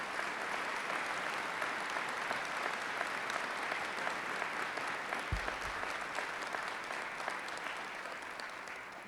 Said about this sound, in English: Let's give her a round of applause right now.